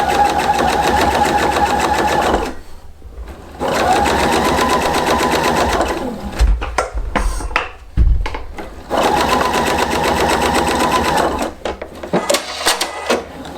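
Sewing machine stitching along a fold on a cardigan, three separate runs of close, steady motor whir with rapid needle chatter, separated by pauses filled with handling clicks and fabric shuffling.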